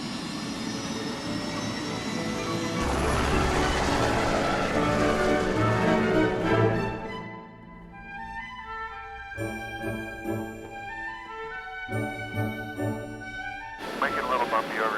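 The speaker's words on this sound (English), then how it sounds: "we cruise to Juneau and take to the sky with Temsco helicopters" A Temsco helicopter flies over Juneau, Alaska, its rotor and engine drone loud and steady at first, then softening beneath music and narration.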